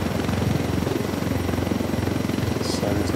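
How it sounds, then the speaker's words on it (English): Loud, continuous blade thumping and engine hum from an unarmed helicopter flying in Ghost Recon Wildlands, close and even, with a short bright chirp late in the stretch. "This helicopter is not armed."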